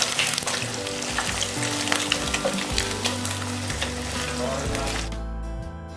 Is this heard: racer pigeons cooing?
no